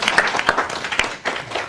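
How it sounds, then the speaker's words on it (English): Meeting attendees at a town board work session give a short round of applause for the Parks Director, uneven claps with a few sharper hits across under two seconds. "She actually deserves, I think, a round of applause."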